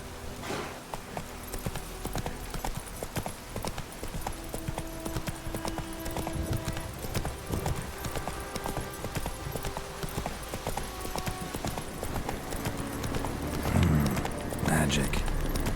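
Roach the horse in The Witcher 3 gallops with continuous rhythmic hoofbeats under game sounds and a voice talking.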